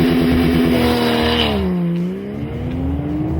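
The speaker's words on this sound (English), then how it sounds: "It's also got a sports exhaust, so it sounds really, really good." A 2012 Porsche 911 Carrera with a 3.4 litre engine and sports exhaust holds a loud, steady engine note close by, its pitch dipping and then climbing again as the revs change.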